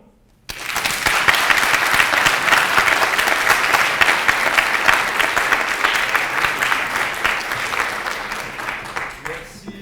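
After a short silence, loud sustained applause bursts out from the audience at a French national debate competition final and holds steady for several seconds before easing off toward the end.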